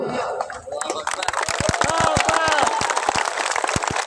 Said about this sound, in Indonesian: Tengok orangnya ragu-ragu tepuk tangan